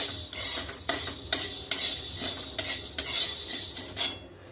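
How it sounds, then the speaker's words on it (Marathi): Whole black peppercorns being dry-roasted for black masala, stirred in a pan with a utensil: steady scraping and clinking strokes in an irregular rhythm, close and moderately loud, with a faint sizzle underneath and no talking. "मी काळी मिरे टाकलेले आहे भाजण्यासाठी"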